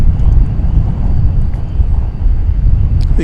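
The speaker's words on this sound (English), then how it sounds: "Turkish flight to Istanbul take off from the west side here" A Turkish Airlines jet departing DFW Airport bound for Istanbul gives a loud, steady low roar close by, with wind buffeting the microphone throughout.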